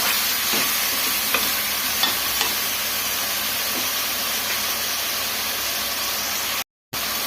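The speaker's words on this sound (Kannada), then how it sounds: "ಆಯಿಲಲ್ಲೇ ಒಂದು 5 ನಿಮಿಷ ಚೆನ್ನಾಗಿ ಫ್ರೈ ಮಾಡ್ಕೊಂಡ್ಬಿಡ್ಬೇಕು." Chicken pepper fry hissing in hot oil in a pan, a dense steady sizzle with a few faint stirring taps, closely heard throughout before a brief cut to silence near the end.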